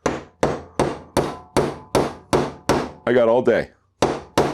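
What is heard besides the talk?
hammer striking a nail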